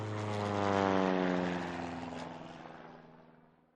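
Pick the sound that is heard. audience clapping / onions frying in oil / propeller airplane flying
propeller airplane flying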